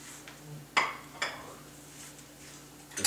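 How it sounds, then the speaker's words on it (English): A metal pan clanks against a stovetop as it is lifted off the heat, two sharp clinks a moment apart, with a faint sizzle and kitchen clatter around them. "Turn off your stove and take your pan off the hot part of the stove."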